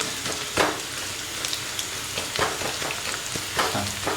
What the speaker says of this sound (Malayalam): ഇഞ്ചി വെളുത്തുള്ളി പിന്നെ കരിവേപ്പില അപ്പോൾ ഇതിങ്ങനെ നന്നായിട്ട് വഴറ്റിയെടുത്ത്